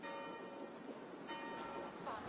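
Church bells ring in the Assassin's Creed Valhalla game world, heard faint and distant as a sustained tolling wash under soft ambient noise.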